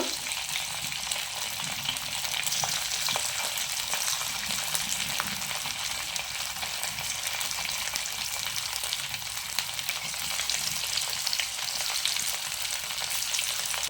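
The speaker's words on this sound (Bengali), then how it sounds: "এইভাবে আমি সব চিকেনগুলো ভেজে নেব।" Chicken pieces sizzle steadily in a kadai for a dhaba-style kadai chicken roast, a dense, even crackle of hot oil that runs on without a break and with no one talking.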